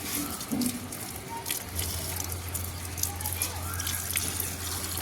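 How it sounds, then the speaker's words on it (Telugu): Water runs and splashes steadily onto plants being watered, with a low hum underneath and faint background noise. "మొక్కలకు వాటర్ అది వేస్తున్నా"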